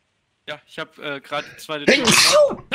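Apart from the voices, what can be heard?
sneeze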